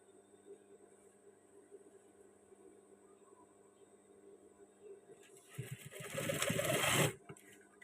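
A sewing machine stitches the collar of a PDH-style school uniform shirt. A low hum runs until it breaks into a loud, fast, close whirring burst for about two seconds, then stops abruptly.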